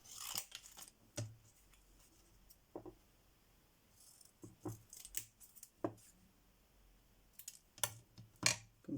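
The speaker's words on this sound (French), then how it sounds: "je vais le découper là-dedans" Scissors cutting paper lace for a small craft photo frame, a series of sharp snips and rustles spaced irregularly, close and fairly quiet in an otherwise still room.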